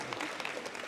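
Audience clapping at a Natural Strongman Worlds 2024 press conference, a brief dense burst of applause from a room of people, continuous and moderately loud.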